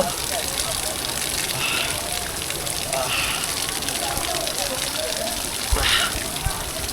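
Cold mountain spring water falls and splashes continuously at the Sahastradhara pilgrimage site in Uttarakhand where a bather stands under it, a loud, broad rushing hiss close by with a voice faintly mixed in.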